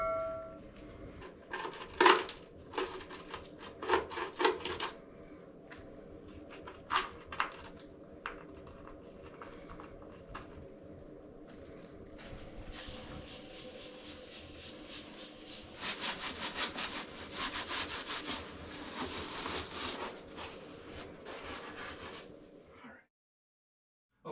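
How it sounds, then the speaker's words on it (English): An old wax ring is scraped off a toilet flange during a toilet replacement: irregular rasping strokes come first, then a longer stretch of sustained gritty scraping that stops abruptly. "Clean as much of this off as we can here. And the old wax ring."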